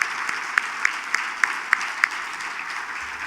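Sparse, scattered clapping at a medical prize ceremony: a handful of sharp, evenly spaced claps stand out above a soft murmur of background applause, then fade.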